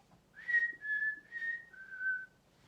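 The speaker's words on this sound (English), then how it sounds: "That's how you whistle." A person whistles a short tune of four sustained notes, clear and close, each note gliding slightly before the next.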